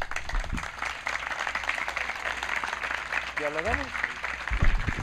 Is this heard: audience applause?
yes